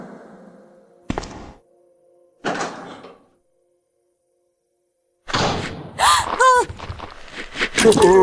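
A door in the survival horror game Resident Evil 2 (1998) opens and shuts, giving sharp thuds and a sliding clunk, followed by a burst of louder game sounds and effects.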